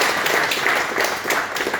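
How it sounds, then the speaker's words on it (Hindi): An audience at a work meeting breaks into loud, sustained applause, a thick wash of many hands clapping at once with no voices standing out. "प्लीज एक बार जोरदार तालियां इनके लिए।"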